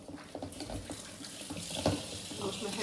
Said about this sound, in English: Wash my hands right away.